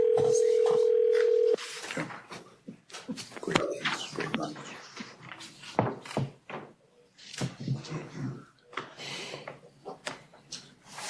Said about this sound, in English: we should get Dr. Cooper on the phone